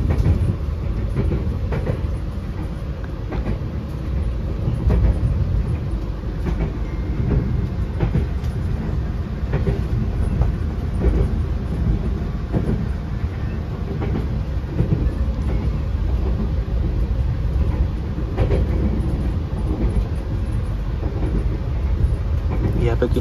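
An Argo Semeru executive-class train rolls steadily along the rails from Jogja toward Bekasi, a continuous loud low rumble heard from inside the carriage with faint rhythmic clatter from the track.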